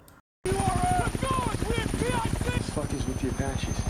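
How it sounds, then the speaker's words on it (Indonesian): Apache helicopters in a war film give off a loud, steady rotor chop that starts abruptly and continues throughout, with a voice talking over it. "2 helikopter Apache harus meninggalkan pangkalan"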